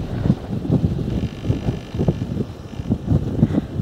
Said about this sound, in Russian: Ветер порывистый, такой ужас.